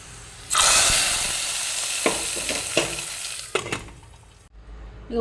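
Hot tempering with dried chilli poured into a bean curry bursts into a loud sizzle, then fades through several spluttering pops and crackles before dying away.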